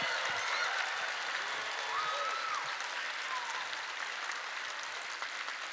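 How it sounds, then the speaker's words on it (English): An audience under one roof applauds the poets at a poetry slam night, a steady, even wash of clapping held for several seconds, with a faint voice rising briefly midway. "please give a round of applause for every poet, every poem that you heard tonight under this roof"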